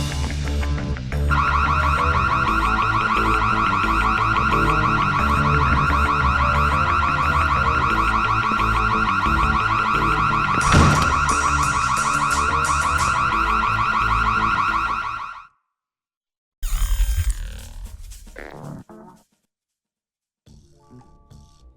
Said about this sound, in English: We have an intruder. Sound the alarm.